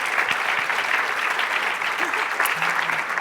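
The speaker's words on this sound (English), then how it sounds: "a big round of applause for all of you" A conference audience at a climate and health forum bursts into loud, dense applause, continuous and close, with a few brief voices and tones mixed into the clapping.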